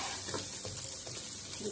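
Onion fries in a pan with a steady, close sizzle. Stirring adds brief scraping bursts over the constant crackle.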